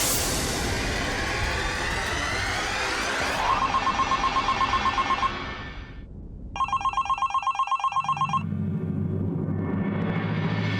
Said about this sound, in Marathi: रितेश, कसा काय फोन केलास बाबा?